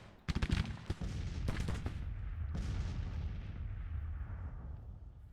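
Civil War artillery booms in a battle from Grand Tactician: The Civil War: a quick volley of sharp cannon blasts, then a few more shots and a final heavy report that rumbles and fades into a long low roar.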